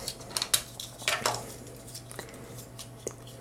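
Plastic toy figure parts, a head and a pegging flap, being handled and snapped together: several sharp, close clicks and rattles in quick clusters, then softer scattered taps.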